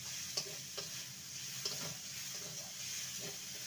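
Sugar melting in a pan while being stirred, a faint, steady hiss with a few light spoon clicks and scrapes, quiet and close.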